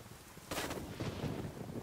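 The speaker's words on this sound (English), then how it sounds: "Just shoot it against the wall." In the Ghost Recon video game, a rapid-firing gun is shot against a wall: a sharp burst kicks in and runs for over a second as a quick, muffled string of shots, fairly faint.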